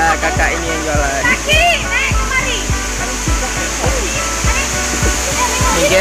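Steady roaring rush of the Alue Meuh waterfall in Sawang, North Aceh, fills the scene, with people talking over it and scattered clicks and knocks.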